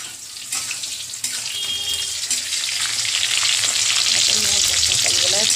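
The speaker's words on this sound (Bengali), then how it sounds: "সকালবেলায় পটল ভাজা" Slices of pointed gourd (potol) fry in hot oil, giving a loud, steady sizzling hiss that swells slightly over the few seconds, with occasional clinks and splashes, and no voices.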